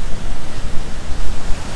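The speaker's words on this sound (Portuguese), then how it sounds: "As ondas tá muito pesada." Heavy ocean surf on a cloudy, cool day at the beach, a loud, continuous roar of breaking waves with rolling surges and some wind buffeting the microphone.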